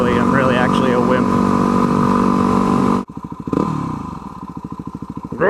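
A dual sport motorcycle rides along with a steady, loud engine drone, then the throttle drops off and the engine pulses in uneven chugs before picking up again; a voice talks over it.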